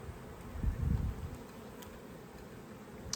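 Honey bees hum in a dense swarm over an open beehive full of brood, a soft, steady buzz that swells briefly near the start and then stays faint.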